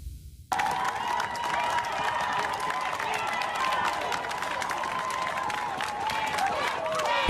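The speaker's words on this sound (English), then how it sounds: "protesters just walking peacefully, and they're clapping for each other" Peaceful street protesters and hospital frontline workers in scrubs applaud each other, a steady, dense wash of crowd clapping with scattered cheers and voices that starts abruptly and continues throughout.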